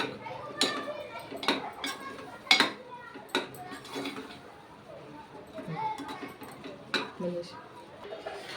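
A spoon stirs and scrapes spices in a metal cooking pot, a series of sharp clinks and knocks at an irregular pace, fairly close, with quiet background noise between strikes.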